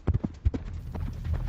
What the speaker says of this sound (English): Turns out that heavy galloping was just Charlie trying to race by Mom